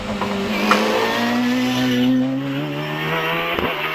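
A Reynard hillclimb race car with a 2-litre V8 accelerates on the Prescott course, its engine note climbing steadily through the revs, heard at a moderate distance and fairly loud.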